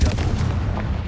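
Confringo blasting spell in Hogwarts Legacy, heard as a short, heavy, booming explosion with a low rumbling body, close and loud, over about a second.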